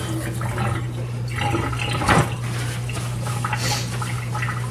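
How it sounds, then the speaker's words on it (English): Kitchen tap running as hands are rinsed during stir-fry prep, a close, continuous splashing stream of water lasting a few seconds, alone without speech. "Rinse my hands off."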